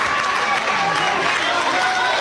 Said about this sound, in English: Fans give him a cheer